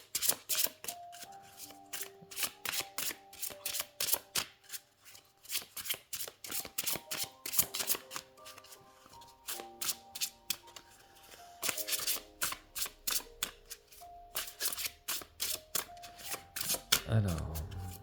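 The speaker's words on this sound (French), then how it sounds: "les cartes glissent extrêmement bien" Christmas-themed oracle cards are shuffled over and over, a continuous patter of crisp slipping and riffling clicks, close and clear, with a voice talking softly underneath.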